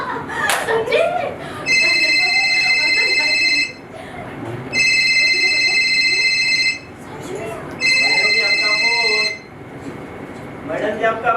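A telephone rings in three long, loud electronic bursts with pauses between them, while people talk in Hindi underneath and in the gaps during a stage comedy play.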